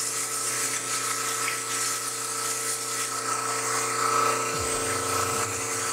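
A dental model trimmer grinds a wet dental model, giving a steady, loud motorized whir with a high grinding hiss that runs unbroken throughout and shifts slightly in pitch near the end.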